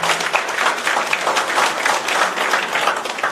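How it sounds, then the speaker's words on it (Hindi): Loud, vigorous applause from a crowd at a Karni Sena workers' gathering in Jharkhand, a thick, steady burst of clapping heard close and continuing throughout without speech. "आप सबके लिए जोरदार ताली।"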